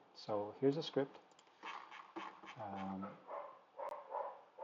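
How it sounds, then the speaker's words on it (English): A dog barks a few times in a room, its barks mixed into a person's ongoing talk at moderate distance. "Sorry for the dog barking"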